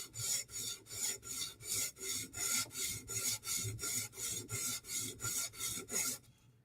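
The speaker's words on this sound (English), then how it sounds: "We're sharpening because I can hear the burr." A Spyderco knife blade drawn across a sharpening stone in steady, even rasping strokes, about two per second, close and clear with no voices, stopping just before the end.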